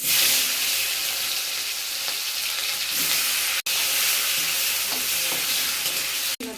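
Garam masala, cumin and tomato sizzle steadily in hot oil, a loud continuous hiss with faint stirring scrapes, broken by two brief dropouts.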